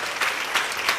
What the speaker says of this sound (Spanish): Tu pueblo te adora a través de estos aplausos, Señor.